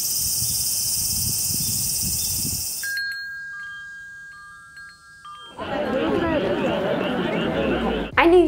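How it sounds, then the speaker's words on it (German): Cicadas of a Japanese summer buzz in a high, steady drone for a few seconds, then stop, followed by a wind-chime ding and a burst of rustling, chattering noise. "für mich persönlich klingt der japanische Sommer nach Zikaden, Windspielen und Fröschen"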